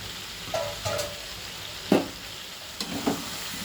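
Spiced potatoes and fried pointed gourd get stirred in a pan for a Bengali potol aloo dalna, giving a few separate soft scraping and sizzling strokes over a quiet background.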